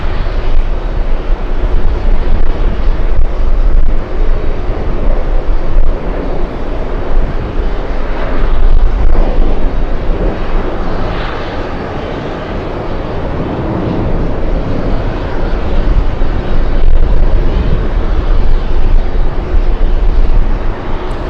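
Korean Air airliner rolling at JFK airport gives a loud, sustained jet engine roar with steady rumble and broadband hiss that swells and eases slightly over twenty seconds, heard from nearby outdoors without talk.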